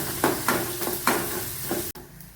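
Sliced shallots and small green chillies sauté in a pan, with a steady close sizzle broken by several rhythmic stirring scrapes, then an abrupt click and a sudden quieter tail.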